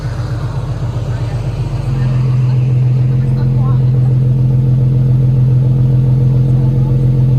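A 3.7L V6 in an Infiniti G37 with an aftermarket exhaust idles loud and close, a steady deep rumble that settles into an even drone after a brief rise early on.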